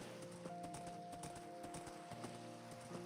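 Horse hooves clip-clop steadily in the Minecraft video game, a quick even rhythm of moderate loudness layered over continuous game music with sustained tones.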